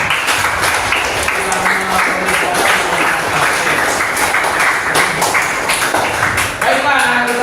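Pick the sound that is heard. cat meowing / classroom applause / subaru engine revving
classroom applause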